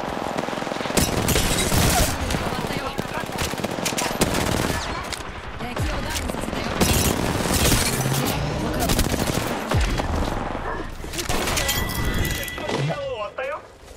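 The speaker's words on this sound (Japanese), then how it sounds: "他の部隊が撃ちまくるよ。" Rapid gunfire from several squads in the Apex Legends video game, dense bursts of automatic shots and impacts crowding the whole span, with a player speaking over the shooting.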